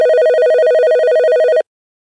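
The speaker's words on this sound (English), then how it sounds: "I didn't realize the phone call went through." A telephone rings for an incoming call, a loud steady electronic ring tone for about a second and a half before cutting off abruptly into silence.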